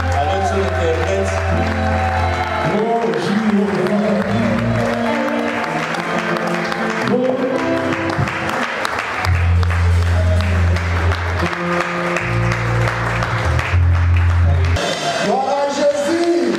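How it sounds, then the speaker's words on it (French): A church congregation applauds and cheers loudly for a prophet, the clapping continuous and blended with music and voices. "nous acclamons très fort"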